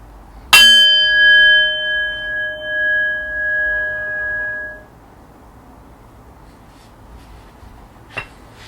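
A single meditation bell struck once near the start, its clear tone ringing with steady harmonic overtones and slowly decaying over about four seconds before fading into quiet room ambience.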